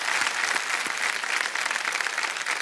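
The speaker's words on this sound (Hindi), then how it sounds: "एक बार अपने ही लिए ताली बजा दीजिए जोर से।" A studio audience on the KBC India quiz show applauds loudly and continuously, a dense, close burst of clapping with no pauses.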